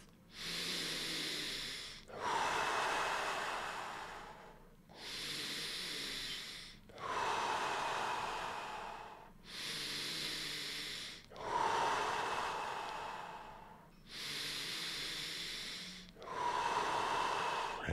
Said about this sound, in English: Five deep breaths.